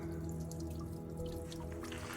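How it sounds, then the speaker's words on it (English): A small trickle of water drips and dribbles through a garden water feature with a bamboo spout, a soft continuous patter with light droplet ticks, faint and alone. "I just leave it on a little trickle, and yeah, just to keep the water moving."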